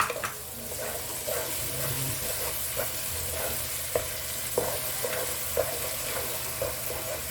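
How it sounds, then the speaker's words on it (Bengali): Tomato paste frying in a pan for a mutton masala curry, a steady close sizzle with soft stirring scrapes and occasional clinks of a spoon against the pan, no talking. "এবার আমি টমেটোর পেস্টটা দিয়ে দিচ্ছি।"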